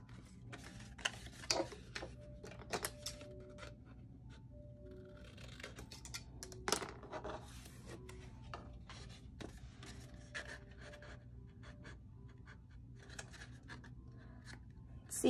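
Quiet crafting sounds while making a shabby chic love pyramid pop-up card: scratchy drawing strokes on paper and soft snips of trimming, irregular and close, with scattered clicks and rustles.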